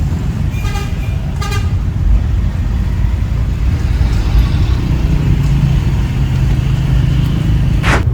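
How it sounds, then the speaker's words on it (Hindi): Heavy truck traffic on a road at night, a continuous loud rumble of passing engines with two sharp horn toots early on and another honk near the end. "रात का टाइम इधर ट्रकों का ट्रैफिक हो गया जी"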